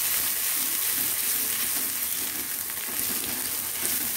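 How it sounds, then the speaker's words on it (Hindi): Finely chopped bell pepper fries over a medium flame in a pan, a dense, loud, unbroken sizzle with stirring mixed in, close up and without speech. "1 मिनट तक हिलाऊंगी इसे।"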